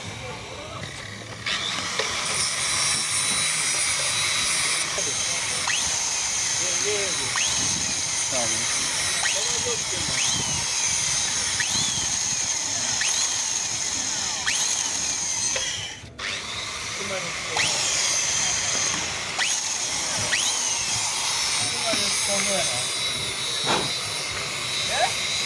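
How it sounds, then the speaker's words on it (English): A power drill runs into a stripped bolt hole in a gearbox housing, whining steadily for long stretches with a brief pause midway, set against hissy workshop noise. "then we shall try to drill into the hole here"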